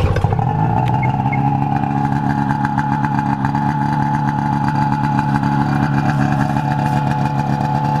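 A 2007 Ski-doo XRS 600 SDI snowmobile engine catches and settles into a steady, loud, buzzing two-stroke idle close by, running evenly for several seconds.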